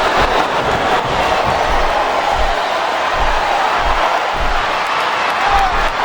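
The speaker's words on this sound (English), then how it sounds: "It sounds like this capacity crowd has something on their minds, Taz." A capacity arena crowd roars continuously in WWE SmackDown vs Raw 2007 on PS2 during a Trish Stratus versus Torrie Wilson match, a steady loud wash of cheering with low thuds from the ring underneath.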